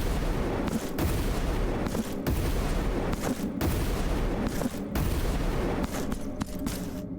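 Explosions in the action game Blasphemous 2 go off in a dense, continuous barrage of booming, crackling blasts with a few short breaks, loud and close throughout.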